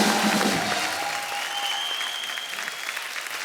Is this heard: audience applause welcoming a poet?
yes